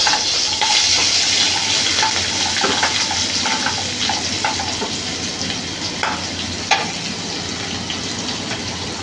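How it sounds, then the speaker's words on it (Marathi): Onion sizzles in a pan with garlic and green chilli over a low gas flame, a dense, even frying hiss with a few light taps, close and continuous with no speech. "नंतर कांदा टाकते."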